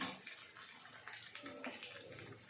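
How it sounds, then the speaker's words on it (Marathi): Peas and pigeon peas dropped into hot oil for a mixed vegetable dish, a soft crackling, spattering sizzle that stays steady and faint throughout the short stretch, heard close with no talking. "आता तेलात आपण सर्व भाज्या परतून घेऊ मी घालते मटार तुरीचे दाणे"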